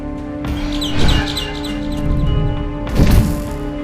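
Loud synthetic bird chirps from the Garten of Banban video game, two bright bursts of tweeting over a sustained tonal game drone, with thumping impacts mixed in.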